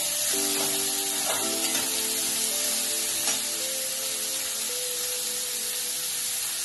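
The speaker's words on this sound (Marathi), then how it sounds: "कांदा छान परतून घ्यायचा।" Onion sizzles in hot oil in a tempering, a continuous bright hiss with brief flares of crackle near the start, close and loud, with no talk.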